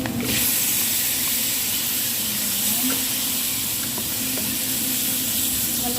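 Tomato strips stirred into spiced oil for chicken biryani, giving a steady, close frying sizzle and hiss with occasional soft clicks from the stirring spoon.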